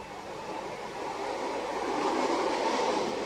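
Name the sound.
train passing on the railway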